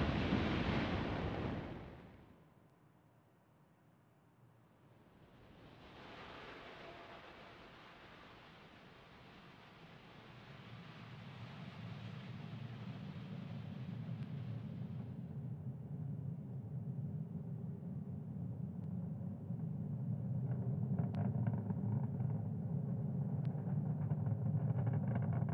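A SpaceX Falcon 9 rocket lifts off from Pad 40 in Florida carrying Starlink satellites, a broad roar swelling after a brief gap and holding as a steady, rumbling low-frequency wash for the rest of the clip, heard from a distance.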